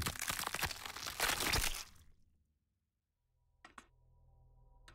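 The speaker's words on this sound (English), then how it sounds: "The unsettling crunching sounds." Loud dense crunching and crackling in Outer Wilds, as if sand is caving in, fills the first two seconds, then cuts to near silence, followed by two sharp clicks over a low hum.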